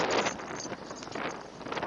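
Gusty wind rushes and buffets against the microphone in a continuous, rough roar with no pauses.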